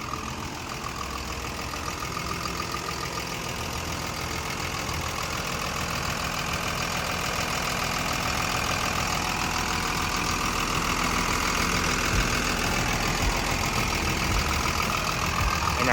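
A Komatsu WA320-8 wheel loader's six-cylinder turbo diesel engine idles steadily and evenly, a continuous low rumble with a rough, knocking texture and no voices.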